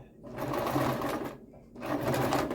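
Sewing machine stitching a pillow made from drying mats, two loud whirring runs of rapid stitches with a brief pause between them, close up.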